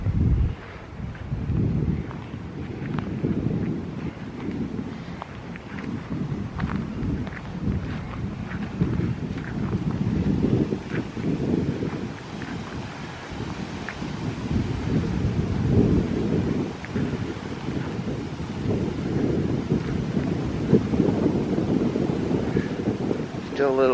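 Steady wind after Hurricane Milton roars and buffets the microphone outdoors in a continuous rough rush, with a person talking over it.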